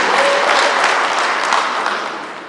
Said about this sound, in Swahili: tupigie makofi